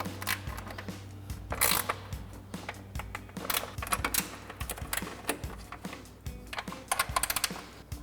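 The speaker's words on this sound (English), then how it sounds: "So we've got an 8 mil ratchet wrench. We'll get all of these loose." An 8 mm ratchet wrench loosening bolts while fitting fog lights on a 2019-2024 RAM 2500, giving close, irregular bursts of fast metallic clicking with short pauses between strokes.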